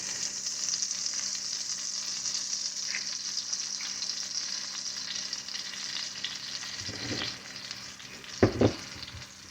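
Top cap sirloin steak sears in olive oil in a cast iron pan, a steady close sizzle and crackle throughout, with a few brief louder scrapes or shifts near the end and no talking.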